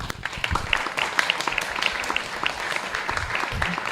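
An audience breaks into clapping at an evening live darshan gathering, a dense, lively round of applause sustained close by for a few seconds.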